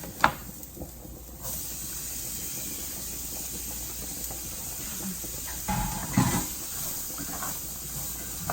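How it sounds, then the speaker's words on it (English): Garlic, onions and carrots sizzling in a pan for shepherd's pie, giving a steady broad hiss that runs throughout, with a few clinks and stirring sounds over it. "you'll take all your garlic, your onions, and your carrots and add them to the pan"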